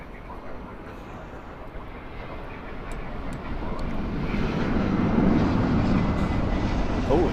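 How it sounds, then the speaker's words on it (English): A loud airliner roars overhead at Los Angeles International Airport, its rumble building steadily and peaking near the end as it passes close. "Holy cow, that was a loud plane."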